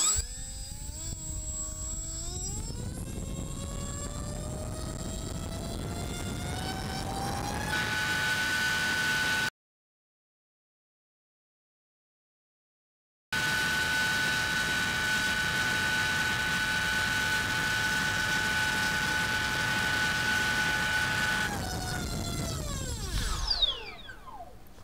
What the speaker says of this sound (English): this time we're gonna spin the Gemfan 6042 by 2